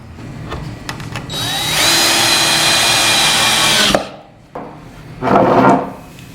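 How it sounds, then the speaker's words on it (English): A power drill driving screws up into a scrap walnut panel from underneath, a loud sustained whir of a couple of seconds that cuts off, then a shorter second burst. "I think just screwing it up underneath will be fine"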